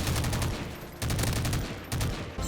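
G36 rifle fire in the video game MW3, three loud bursts of rapid automatic shots close up, each lasting under a second with brief gaps between, no talk.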